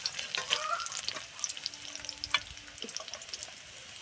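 Onion frying in a pan gives a steady close sizzle with small crackles and pops, and a few light clicks of stirring.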